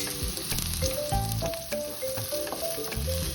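Garlic and onion sauté in hot oil for Filipino sinampalokang chicken, with a loud close crackling sizzle, repeated spatula scrapes and taps against the pan, and a steady hiss throughout, no voices.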